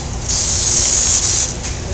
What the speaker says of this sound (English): much better if you put the water right on their coat and don't hold it away and spray them